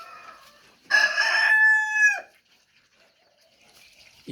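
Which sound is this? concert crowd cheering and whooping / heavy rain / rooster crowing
rooster crowing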